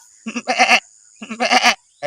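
A man imitates a billy goat, giving two loud, wavering bleats with a pause between, then starting a third.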